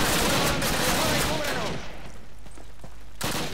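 Gunfire bursts at Pegasus Bridge in Call of Duty, a loud rattling burst at the start fading into quieter scattered shots and rumble, then a final burst.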